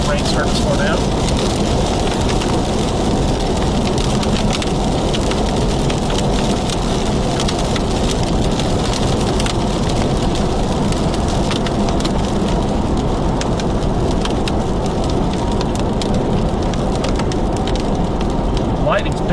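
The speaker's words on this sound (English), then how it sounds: "Alright, rain's starting to slow down." Heavy rain pounding a vehicle during a storm chase across the plains, a loud continuous dense patter, with someone speaking over it.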